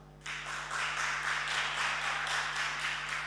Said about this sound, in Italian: Fateci risentire questo applauso.